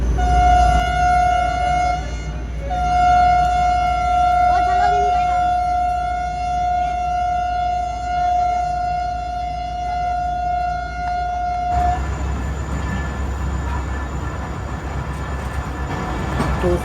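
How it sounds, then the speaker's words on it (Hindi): Hazara Express pulling out of Mehrabpur station after a two-minute halt: a long steady tonal horn or siren blast over continuous low rumble, giving way to broadband train running noise toward the end. "तो सिर्फ 2 मिनट रुकने के बाद ट्रेन निकल रही है मेहराबपुर से"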